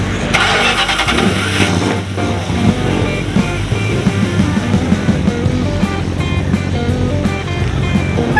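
A 1969 Dodge Charger known as the General Lee fires up at a car show and its engine idles and rumbles steadily, a close, continuous mechanical growl with faint background noise.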